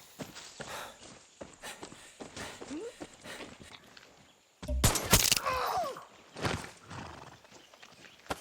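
Horse hooves clopping at a walk in the video game Far Cry 6, with a neigh and a louder burst of activity midway, set against a background ambience.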